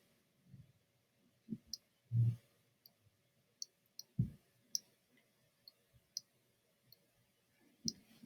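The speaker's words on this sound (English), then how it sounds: "I could go to the minus and start clicking and dragging like that." Computer mouse clicking while a selection is edited with plus and minus tools, a dozen or so sparse, close, crisp clicks at uneven intervals over a quiet background, with soft low desk thumps at a few points.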